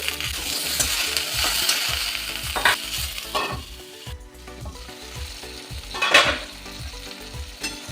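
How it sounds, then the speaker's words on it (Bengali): Flat beans (shim) frying in mustard oil with panch phoron and a little salt, a loud close sizzle broken by regular scraping stirs and tossing. "শিমগুলো আমি উল্টে পাল্টে ভেজে নিয়েছি।"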